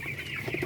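Chickens in a bamboo rack coop give a short run of soft, steady clucks, with no voices present.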